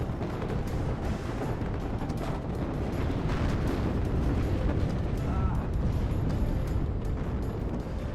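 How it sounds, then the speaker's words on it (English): Bombing run explosions in the WARNO video game roll on as one continuous, heavy rumble of blasts. The thick, booming din stays loud and dense from start to finish. "And more bombing runs."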